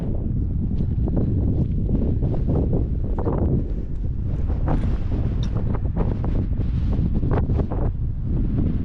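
Steady wind buffeting the microphone at an outdoor campsite among Utah mountains and canyons, a continuous low roar with gusty swells and rustling throughout.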